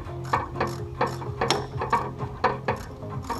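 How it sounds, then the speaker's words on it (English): A hand ratchet clicks in quick bursts, tightening the steering column keeper bolt on a Jeep Wrangler fitted with a Jeep Cherokee or early GMC column. The short clustered pawl clicks are close and loud, with no talk. "Don't forget to tighten your steering keeper bolt"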